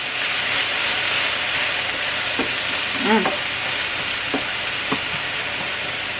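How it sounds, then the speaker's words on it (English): Onions and peppers sauté in a soup pot over medium heat, giving a steady, close frying hiss that runs throughout with a few faint clinks and no talking. "My onions and peppers are sauteing here."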